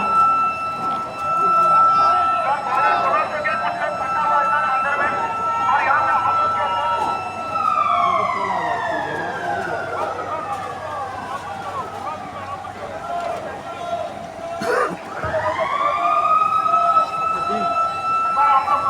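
A wailing ambulance siren rises and falls repeatedly, loud and fairly close, with a voice talking over it throughout, during an emergency rescue demonstration at an industrial plant site.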